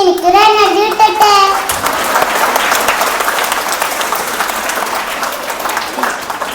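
A crowd of schoolchildren breaks into loud, dense applause that fades slowly after children's voices shout at the start.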